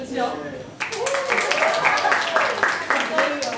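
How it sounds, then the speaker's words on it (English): A small meetup audience applauds the venue sponsors: broadband clapping begins abruptly under a speaking voice and carries on steadily to the end, moderately close, with talk running over it. "can we give them a round of applause?"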